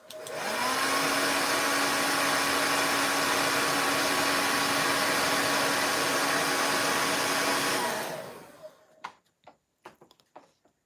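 A hair dryer blows steadily on wet paint of a 3D fall leaf painting, a loud constant whir for about eight seconds before it cuts off, followed by a few light taps and handling noises.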